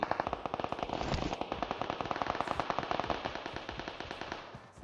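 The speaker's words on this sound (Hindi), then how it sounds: "अब उधर गोलियां चल रही हैं धक्का पेल करके" Dense bursts of rapid automatic gunfire in PUBG Mobile crackle continuously, loud and busy, with overlapping shots and no clear pauses.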